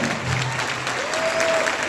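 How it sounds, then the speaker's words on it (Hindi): Continuous applause from a crowd at a DXN business seminar in Deoria, a brief steady wash of many hands clapping at moderate volume. "जोरदार ताली दीजिए।"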